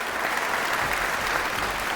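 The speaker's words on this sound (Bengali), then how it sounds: "একবার জোরে হাততালি হয়ে যাক প্লিজ।" A live studio audience at a police singing-contest show applauds with dense, even, sustained clapping throughout, moderately loud and close.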